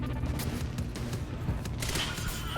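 Gunfire in the video game Quantum Break, a dense, continuous rattle of shots and booms at steady loudness with no talk over it.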